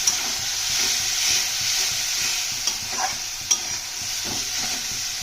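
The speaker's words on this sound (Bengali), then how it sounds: "জলটা দিয়ে মশলাটা ভালোভাবে কষিয়ে নেব" Spice paste with a splash of water sizzles loudly in a pan while being stirred for a cauliflower-potato rohu fish curry: a continuous hissing fry with a few scraping spoon strokes, close.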